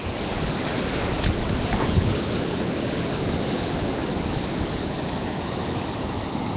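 Storm surge waves wash steadily onto a beach during a tropical cyclone, a loud, continuous roar of surf mixed with gusty wind buffeting the microphone, no voices.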